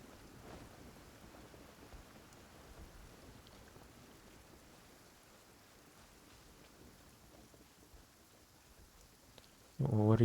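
Steady rain and low rumbling thunder fill a Genshin Impact game scene, a continuous wet wash at moderate level that holds evenly throughout before a sudden louder burst right at the end.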